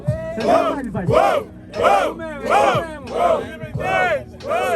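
Spectators at a rap battle event shout together in loud rhythmic chants, seven or eight repeated bursts in a steady cadence, close and forceful.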